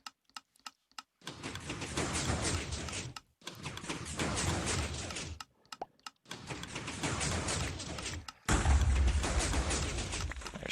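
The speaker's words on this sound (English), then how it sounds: "There's some booms." Explosions in a modded Minecraft tree farm: a few faint clicks, then four long, loud roaring bursts of noise, each lasting a couple of seconds, separated by short gaps.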